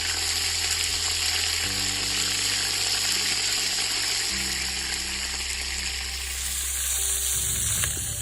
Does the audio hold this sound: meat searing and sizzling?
yes